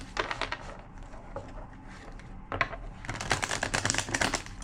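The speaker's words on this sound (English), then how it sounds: "2 more shuffles." A deck of cards is shuffled by hand close up, with bursts of rapid papery riffling and flicking, heavier toward the end.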